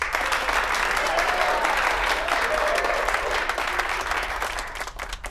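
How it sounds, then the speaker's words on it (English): A studio audience at a televised cooking game show bursts into sustained, loud clapping that stays dense and even before tapering slightly at the end. "And a big round of applause for today's contestants, Jack and Liz."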